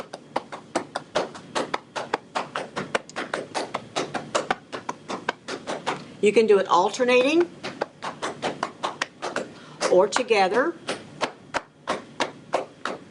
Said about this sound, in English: But you want your cupping to sound like this.